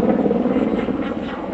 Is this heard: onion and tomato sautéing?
no